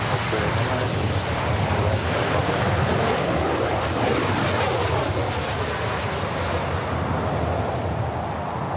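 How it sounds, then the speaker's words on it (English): An Asiana Airbus A380 arrives at LAX, a loud, broad jet roar holding steady for several seconds as it passes overhead, with no talk. "Our next arrival is Asiana Flight 204, the A380 Super coming in from Seoul."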